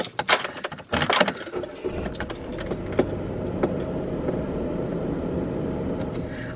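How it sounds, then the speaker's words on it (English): A car engine turns over and settles into a steady idle, preceded by jangling keys and a few handling clicks early on. "Let's turn the car on before trying to back up."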